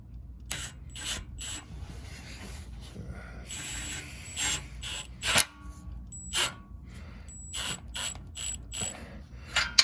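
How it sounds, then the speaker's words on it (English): An impact wrench snugs up an exhaust part on an Acura TL, firing in short, sharp, close bursts with brief pauses between them over a low background rumble. "I'll try to use my impact here to kind of snug it up."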